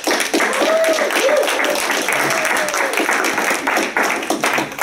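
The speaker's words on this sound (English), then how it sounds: "I'm gonna clap myself." Classroom or auditorium audience clapping at a computer science education event, steady dense applause filling the whole stretch with faint voices and whistles mixed in.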